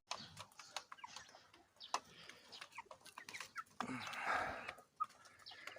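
A young rooster and chicks cluck and chirp in short, irregular bursts, fairly close, with scattered farmyard noise around them.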